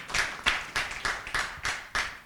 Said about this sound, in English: So I guess this also deserves an applause.